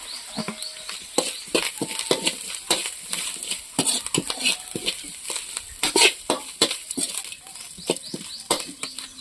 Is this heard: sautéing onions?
yes